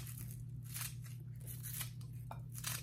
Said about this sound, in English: Just snip them, you could chop them. I've just been using scissors, it's very easy.